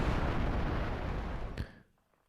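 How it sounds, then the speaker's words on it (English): A big explosion in the video game Craftopia gives a loud, dense roaring blast that rumbles steadily, then cuts off with a sharp crack and fades into quiet. "Big explosion."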